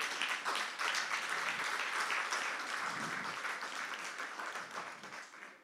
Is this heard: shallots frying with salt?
no